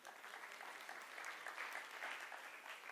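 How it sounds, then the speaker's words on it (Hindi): An audience at a conference inauguration breaks into steady, even applause, a soft, somewhat distant wash of many hands clapping that lasts throughout. "अरे भाई बहन जी के नाम की ताली बजाओ।"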